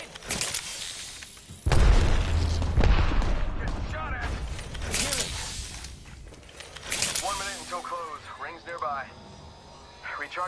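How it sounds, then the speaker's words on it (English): A grenade blast in the Apex Legends battle royale game lands as a sudden loud boom, followed by rumbling gunfire and effects, with a voice talking over the later part. "Grenade!"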